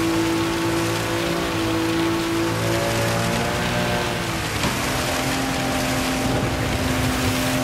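BMW M3 E46 in Gran Turismo 7 running on a rain-soaked track, a steady engine drone blended with constant spray and rain hiss, with a brief swish at a puddle partway through.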